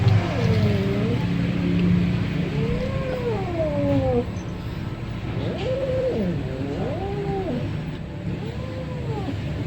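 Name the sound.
white cat meowing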